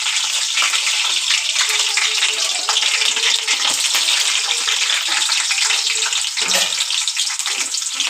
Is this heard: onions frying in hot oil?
yes